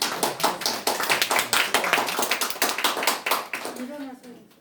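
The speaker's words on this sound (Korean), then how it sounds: "우리 격려의 박수 한번 하겠습니다" A church youth congregation claps in encouragement, a close and loud run of brisk, steady handclaps that fades out at the end as a voice begins speaking.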